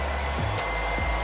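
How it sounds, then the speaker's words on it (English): A hood-style hair dryer used on thick natural hair in curlformers runs with a steady, close, loud whoosh, with a few brief soft clicks and bumps over the continuous airflow. "I'm probably only gonna sit under the dryer for like 30 minutes."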